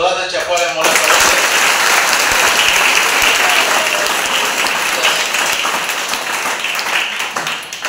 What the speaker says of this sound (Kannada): ಒಮ್ಮೆ ಎಲ್ಲರೂ ಜೋರಾದ ಚಪ್ಪಾಳೆ ಮೂಲಕ